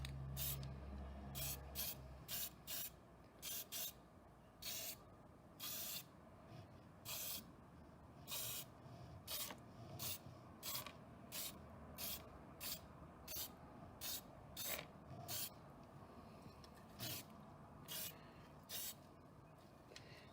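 Aerosol spray primer hisses in a long series of short, even bursts over Star Wars Legion miniatures, each spurt a second or less with brief gaps between, close and steady with no talking.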